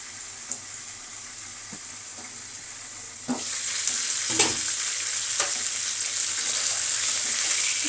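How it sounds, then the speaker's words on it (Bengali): Fish frying in a pan, a steady crackling sizzle that grows louder and busier partway through as the fish is turned over, with a few soft spatula scrapes and taps. "আমি এদিকে মাছটা আরেকবার উল্টাই দিই"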